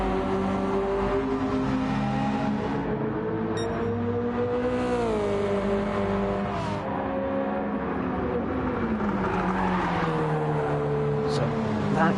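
A GTE race car in Gran Turismo 7 roars around Trial Mountain circuit, its engine note rising and dipping through gear shifts, loud and continuous throughout, with commentary faintly under it.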